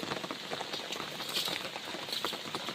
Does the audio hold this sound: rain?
yes